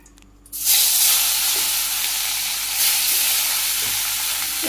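Fish rubbed with salt, turmeric and dried chilli powder hits hot oil in a wok, bursting into a loud, steady sizzle after a brief quiet start, with stirring scrapes underneath.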